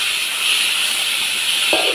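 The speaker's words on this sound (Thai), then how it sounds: "ให้เพื่อนๆชมบรรยากาศฝน จ้า ฝนตกแล้ว" Rain falling outdoors beside a full canal, a steady, even hiss of drops that continues unbroken throughout, with no voices.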